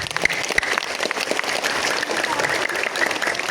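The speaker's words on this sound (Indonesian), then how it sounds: "Tepuk tangan untuk para guru dan para murid." Crowd applause at a school flag ceremony for Indonesian Independence Day, sustained dense clapping from many people in an outdoor gathering, steady and fairly loud throughout.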